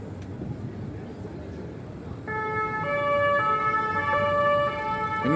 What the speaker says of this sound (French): Un nouveau camion de CRS.